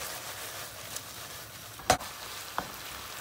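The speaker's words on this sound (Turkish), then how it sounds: "Domatesin de çiğ kokusu kalmasın diye biraz soteleyeceğim içinde." Tomatoes seasoned with red pepper flakes, salt and black pepper sautéing in a pan give a faint steady sizzle, with a couple of brief sharper crackles or stirring clicks standing out.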